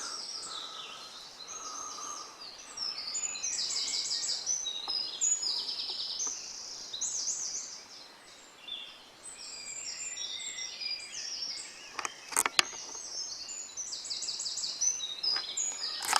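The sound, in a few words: birds tweeting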